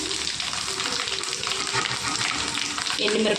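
Garlic cloves, along with mustard seeds and cumin, frying in hot oil for a tempering, giving a close, steady crackling sizzle that swells slightly toward the end.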